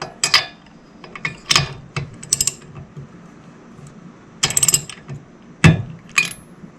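Socket wrench ratcheting a spark plug out of a Puch Magnum X moped, giving close, sharp clicking bursts in irregular clusters with quiet gaps between them and no voices.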